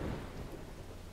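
Lightning and a thunderstorm in Dawn of Man: a brief, low thunder rumble with steady rain hiss, quiet and distant-sounding, no voices.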